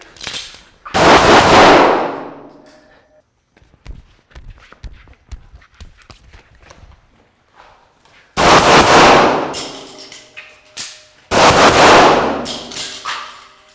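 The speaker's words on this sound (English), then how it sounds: "Shoot to the left, shoot to the left, shoot to the left, move it, move it!" Gunshots ring out during a tactical rifle shooting drill on a range, loud and close: a sharp blast with a long echoing decay, a run of smaller clicks and clatter, then two more booming shots.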